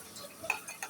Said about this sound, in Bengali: ছোলা আমার প্রায় হয়ে গেছে। একটু নাড়াচাড়া করে দিব।